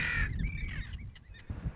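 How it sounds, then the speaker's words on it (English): Arctic terns on the island of Foula give harsh, rasping calls, one loud near cry followed by a few shorter, fainter notes. "we had to go through Arctic Tern territory"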